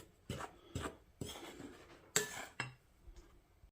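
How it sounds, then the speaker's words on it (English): Dry biscotti ingredients for a honey lavender batch are stirred in a mixing bowl, giving a handful of short scraping, clinking strokes in an uneven rhythm, close and fairly soft, with no talking. "Give our dry ingredients a stir to combine"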